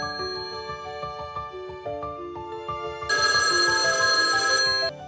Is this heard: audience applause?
no